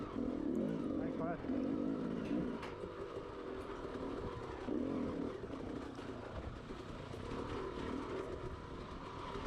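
Motorcycle at speed on a race lap of the Wolwekloof TT circuit, a steady loud engine drone with shifting pitch and wind rush throughout, while a voice talks over it.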